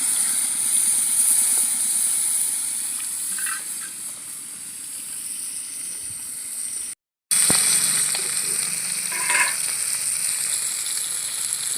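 Small rohu fish sizzle loudly and continuously in hot oil, with a brief silent gap midway before the frying resumes.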